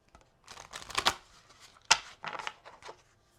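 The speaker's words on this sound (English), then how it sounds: "Shuffle this one more time." Quiet papery riffling of tarot cards in several short bursts, a shuffle with brief pauses between passes, close and soft.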